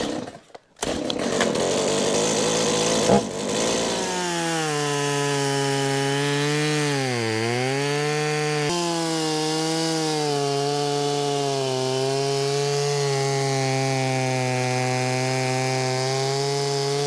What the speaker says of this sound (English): get the chainsaw and get going